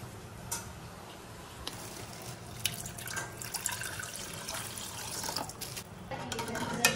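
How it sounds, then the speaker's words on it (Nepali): Water poured into a homemade panipuri spice mix of tamarind, salt, lemon and coriander, a faint running trickle with small splashes and clinks building slightly over several seconds. "अब पानी हाल्नु बाँकी छ।"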